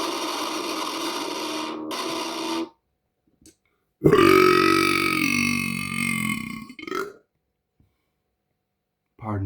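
Long, loud, drawn-out burps from a person in a bedroom, a couple of extended rasping belches separated by silence, with brief vocal noises around them.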